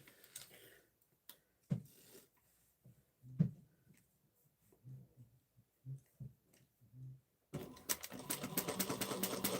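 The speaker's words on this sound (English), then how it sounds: "we're going to sew this with a 1/4 of an inch seam allowance" A sewing machine stitches a bag seam in short, quiet bursts with small mechanical clicks between them, then runs faster and louder in a sustained stretch at the end.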